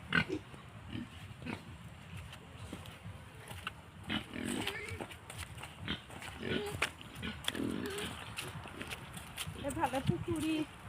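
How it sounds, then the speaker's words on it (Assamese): Pigs on a rural homestead grunt and snort in short bursts, close and low, while a person talks over them throughout. "তাতো এটা গাহৰি আছে"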